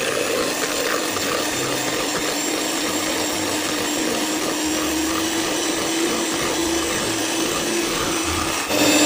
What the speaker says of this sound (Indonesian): Kemudian kita mixer sampai mengembang, yaitu putih, kental, dan berjejak